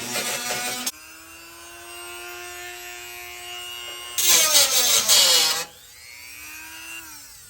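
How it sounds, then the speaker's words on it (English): Angle grinder smoothing welds in the engine bay of a 1973 VW Westfalia camper, loud harsh grinding bursts with the disc whining as it spins down between passes. "I gotta go ahead and do some grinding and smooth some of the surface"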